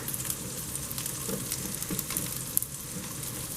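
Onions and zucchini frying in a buttered, seasoned pan on a griddle, a steady close sizzle with faint crackles and a brief stir, no talking.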